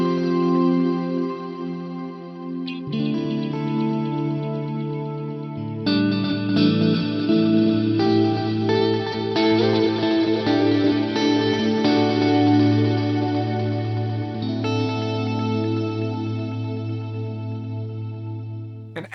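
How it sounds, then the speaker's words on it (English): An electric guitar plays sustained chords through a stock Plex delay shimmer effect, each strum blooming into a lush, echoing wash that swells and lingers with no talking. "let's just have a listen to the stock Plex delay type on here."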